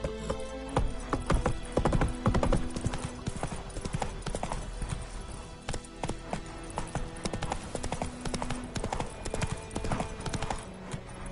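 Video game horse Roach galloping, with steady rapid hoof clip-clops close and loud throughout, a brief voice over the hooves.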